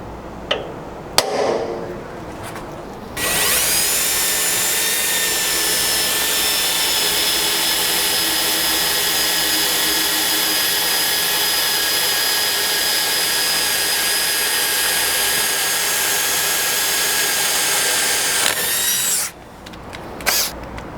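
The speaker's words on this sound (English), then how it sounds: "now that we've got our 5/16 hole drilled, we'll take a 3/8 self-threading bolt and run it into that hole." A power drill bores a 5/16-inch hole in a Toyota FJ Cruiser's frame for a rock slider rear mount, running loud and steady for about sixteen seconds after a few short preliminary bursts, then stopping.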